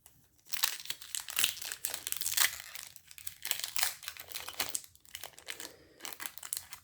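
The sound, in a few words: trading card booster pack wrapper being opened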